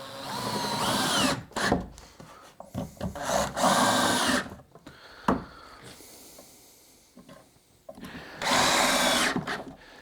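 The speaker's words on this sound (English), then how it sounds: "We can drive those screws home." A power drill drives screws into a wooden partition of a router table, with several loud whirring bursts of a few seconds each, separated by short pauses and clunks as the bit is repositioned, close up and without speech.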